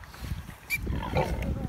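A pig on a farm gives brief, low grunts up close while a person talks over them.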